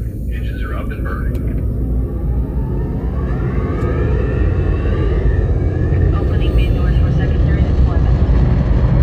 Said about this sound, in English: Engines are up and burning.